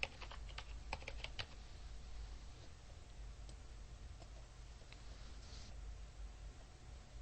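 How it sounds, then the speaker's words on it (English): Fingers tap on a computer keyboard in a quick, sharp cluster of clicks, then fewer, scattered keystrokes over a low hum, faint and close with no talking. "Just type it in here."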